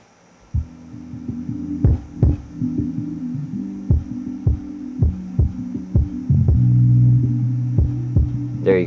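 Bass-heavy music thumps through a homemade unported subwoofer built from scrap box materials, with steady low rumbling beats and rhythmic pulses, fairly quiet but continuous, with no talking.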